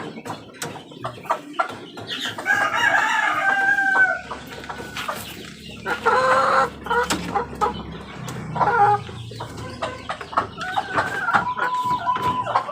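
Chickens and young chicks clucking and peeping close by while being fed and watered, with repeated short calls and a rooster-like crow mixed in, continuous throughout and no talking.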